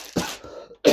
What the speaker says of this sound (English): Just been coughing non-stop.